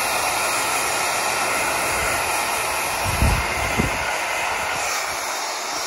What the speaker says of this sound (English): Here's Storm to eat the freaking blow dryer.